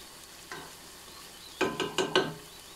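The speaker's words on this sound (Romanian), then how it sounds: "Și amestecăm." Bulgur with tomatoes is stirred in a pan, with a quiet sizzle under a single scrape followed by a burst of four quick, sharp scrapes near the end.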